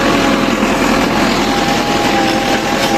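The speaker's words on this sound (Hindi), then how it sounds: "ट्रैक्टर बहुत हिल रहा है।" A tractor engine runs steadily and loudly up close while riding across farmland in Punjab, Pakistan, a constant droning rumble with no pauses and no voices.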